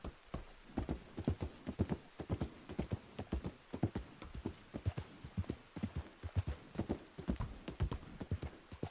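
Horse hooves in the Red Dead video game clip-clop in a brisk, steady rhythm for several seconds, close and distinct, with no talking over them.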